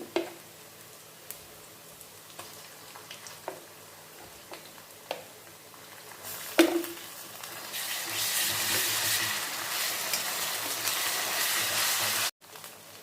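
Chicken fry cooking in a pan with onions and ginger paste, first a few soft clinks and stirs, then a steady hissing sizzle that swells and holds until it cuts off abruptly near the end.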